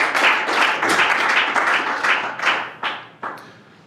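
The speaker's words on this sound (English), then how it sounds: "So let's give them a round of applause." An audience claps in a warm round of applause for prize winners at a mathematics lecture, dense and steady at first, then thinning into a few last scattered claps.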